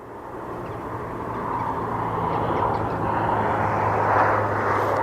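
A departing aircraft at Aberdeen Airport gives off a broad, steady engine roar that swells gradually as it climbs out, fairly close and with no voices.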